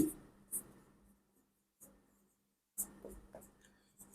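Hand writing a given algebraic expression for a class 9-10 maths exercise, a few brief scratchy pen strokes separated by quiet gaps, close and soft, with faint low hum underneath.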